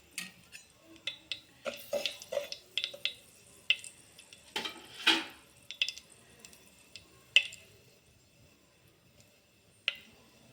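Fenugreek seeds fry in hot oil in a pan for a lentil ball curry, giving scattered sharp crackles and pops that cluster early and then thin to occasional snaps.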